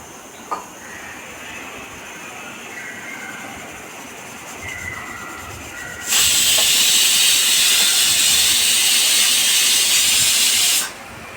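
Steam hissing loudly from a pressure cooker of boiling water while making Kerala puttu, a sudden steady roar that bursts in, holds for several seconds and cuts off, after quiet kitchen background.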